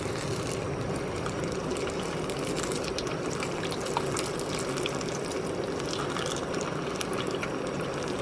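A piece of fish cooks in a canteen cup for fish tacos, giving a steady, close bubbling sizzle with soft crackles that runs evenly throughout with no talking.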